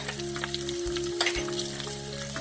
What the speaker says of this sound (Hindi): देखिए हमारे मसाले बिल्कुल सेक रहे हैं अच्छे से